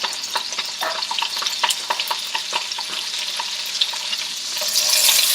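Butter sizzling in a pan with shrimp ready for fried rice, a bright crackling fry with quick rhythmic spatula scrapes throughout, swelling into a louder hiss at the end, close and free of speech.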